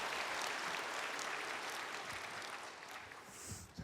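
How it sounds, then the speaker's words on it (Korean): A church congregation applauds to welcome a woman coming forward for her testimony and baptism, a sustained wash of many hands clapping at a distance, steady and then slowly easing off. "나올 때 우리 박수로 환영하겠습니다"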